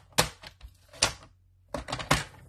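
Cardstock is cut on a paper trimmer at a card-making desk. The blade gives crisp, close snaps and clunks in two short bursts separated by a pause.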